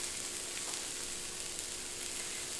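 Black bean burgers on a hot nonstick griddle give off a soft, steady sizzle with faint crackles, fairly quiet and heard alone.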